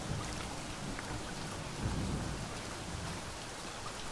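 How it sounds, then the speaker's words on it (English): A thunderstorm pours steady heavy rain on a boat out on open water, a dense hiss that carries throughout, with a low roll of thunder swelling briefly midway and no voices. "Storm's getting worse, too."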